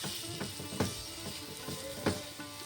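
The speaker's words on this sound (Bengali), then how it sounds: "রসুন কুচি দিচ্ছি, আদা কুচি দিচ্ছি, আর একটা কাঁচা লঙ্কা কুচি দিচ্ছি। এগুলো হালকা করে ভেজে নেব।" Chopped garlic, ginger and green chilli fry in a pan for Begun Sundori, a steady close sizzle broken by a few sharp spoon-scraping stirs.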